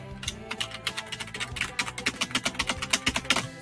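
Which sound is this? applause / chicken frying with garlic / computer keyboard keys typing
computer keyboard keys typing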